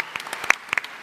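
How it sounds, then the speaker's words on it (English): Scattered hand claps from the audience at a 2011 Comic-Con panel for Knights of Badassdom, with a short burst of distinct, uneven claps that are fairly close and loud. "Let's give these guys a round of applause."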